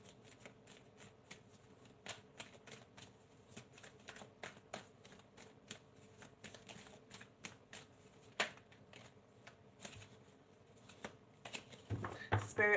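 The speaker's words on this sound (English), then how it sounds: "let's shuffle your cards" Tarot cards are shuffled by hand, producing a long run of soft, irregular riffling clicks and slaps up close, with a few louder snaps and brief talking near the end.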